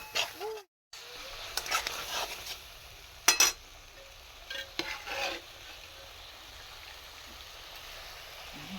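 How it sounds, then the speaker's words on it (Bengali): Spice paste fries in a pan with a soft, steady sizzle, broken by scattered scraping and clinking as a utensil stirs it against the metal. "মশলাটা ভাজা হয়ে গেছে।"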